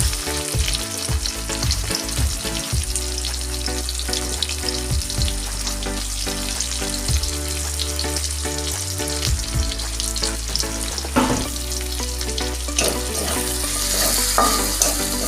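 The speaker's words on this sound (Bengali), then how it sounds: "পেঁয়াজটা লাল লাল করে ভেজে নিচ্ছি" Onions fry in hot oil with a loud, steady sizzle, broken by repeated scraping stirs of a spatula against the pan.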